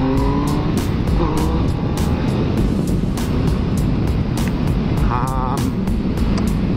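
A 2016 Triumph Speed Triple S motorcycle being ridden, its engine roaring loud and close for the whole stretch, with steady wind rush and a brief rising pitch sweep near the end.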